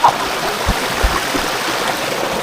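Spring water from a natural spring flows along a shallow stream at Tukod na Bato in San Miguel, Bulacan, a steady close trickling wash with a few soft low thumps and no talk.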